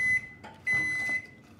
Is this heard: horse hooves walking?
no